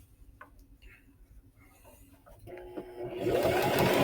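A sewing machine stitches pieces of fabric triangles together, quiet at first and then running in a steady, close whirring rhythm that grows louder, while a voice speaks briefly.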